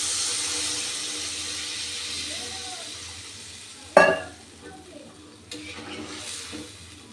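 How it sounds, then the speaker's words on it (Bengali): Water is poured onto spice masala fried in a pan, setting off a sudden loud burst of sizzling that quickly settles into a quieter bubbling, after a steady frying hiss. "এবার আমি দিয়ে দেবো পরিমাণ মতো জল।"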